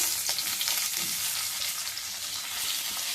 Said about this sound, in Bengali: একটু সুন্দরভাবে নেড়ে চেড়ে নিচ্ছি মশলার মধ্যে, তেলের মধ্যে